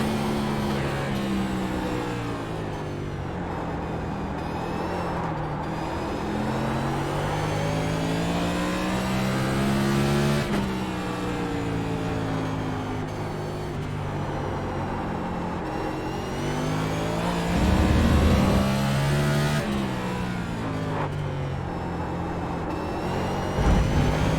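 Race car engine at Sonoma Raceway in iRacing, held loud and near throughout, climbing in pitch through each gear and dropping sharply at the shifts, with one brief deeper surge late in the lap.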